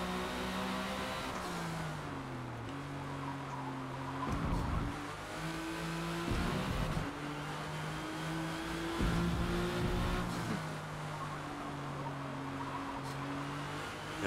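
A '97 Porsche GT1 race car lapping Catalunya in Forza Motorsport, its engine revving up through the gears with distinct shift drops, braking and accelerating steadily and close throughout, with no talking.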